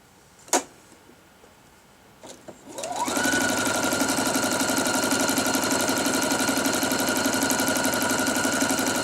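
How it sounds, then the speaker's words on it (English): A sewing machine stitching quilt squares, sewing quarter-inch seams beside a drawn line. After a couple of light clicks it spins up and runs at a loud, steady, continuous whir to the end. "We're going to sew 1/4 inch on both sides of that drawn line."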